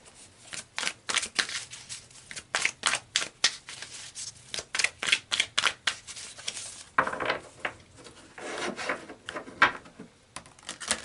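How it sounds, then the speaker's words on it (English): Tarot cards are shuffled in a rapid series of crisp, riffling bursts, followed by looser rustling and flicking as cards are handled and pulled, close and fairly loud. "So let's pull some more cards"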